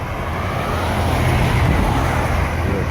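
Steady low road rumble of a tow vehicle hauling a tiny house on a trailer through a town after dark, a continuous close drone of engine and tyres with no talk.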